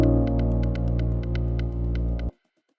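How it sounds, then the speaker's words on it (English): A chill house percussion loop ticks in quick, even light hits over a deep sustained bass tone, then stops abruptly, leaving near silence. "and then a little like percussion loop thing here."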